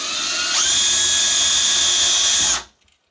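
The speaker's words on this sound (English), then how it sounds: "Oh, you got to drill a hole first?" A power drill bores a hole while installing a new front door, a steady high whine running about two seconds at close range before cutting off abruptly into quiet.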